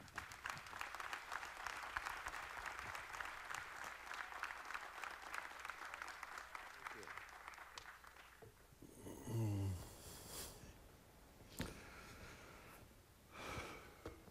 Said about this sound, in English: give an exciting Rockford round of applause to Bert Sperling